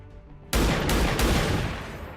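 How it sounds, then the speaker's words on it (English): Gunfire in the tactical game XCOM 2 erupts suddenly after a quiet moment: a loud burst of rapid shots with a couple of sharp peaks, trailing into a sustained roaring echo. "maybe if they hear the sounds of the gunshots, that'll kind of motivate them to not hang around there."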